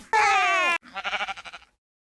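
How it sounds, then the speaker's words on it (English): A sheep's bleat serves as a toy dinosaur's voice in a Peppa Pig cartoon: one loud, sustained quavering cry followed by a shorter, pulsing, stuttering bleat, up close and with no other sound. "Let's listen to how George makes the dinosaur's voice"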